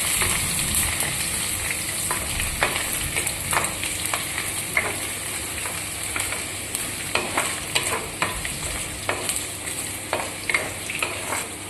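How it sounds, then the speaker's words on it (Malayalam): Ginger sautéing in a hot pan for prawn roast, steady crackling sizzle of oil with repeated sharp scrapes and clicks of a spoon stirring, close and fairly loud, no talk. "ഇഞ്ചിയും നമുക്ക് അങ്ങോട്ട് ആഡ് ചെയ്യാം ഓക്കെ ഇതിനെ ഒന്ന് നമുക്കൊന്ന് വാട്ടിയെടുക്കാം"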